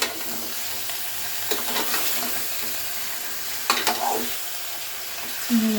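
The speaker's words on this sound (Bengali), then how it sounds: "এবার এটা দিয়ে ভালো করে নাড়িয়ে নিতে হবে।" Onions and meat stir-fried in a pan give a steady sizzle with scraping spoon strokes and a few sharper knocks against the pan, close up and without talk.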